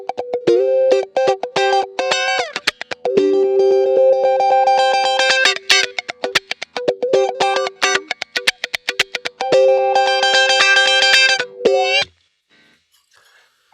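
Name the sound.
electric guitar through Kemper Profiler, 80s direct tone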